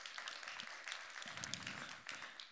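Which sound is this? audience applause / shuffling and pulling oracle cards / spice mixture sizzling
audience applause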